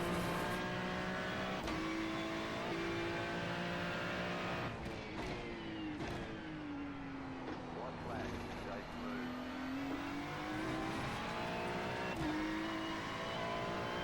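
Race car engine in a racing video game lapping a track, a steady high drone with pitch rising and falling through gear shifts and corners, continuous and close with brief clicks between.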